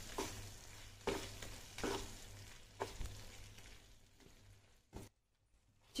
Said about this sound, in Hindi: अब इसे हमें अच्छे से मिक्स कर लेना है।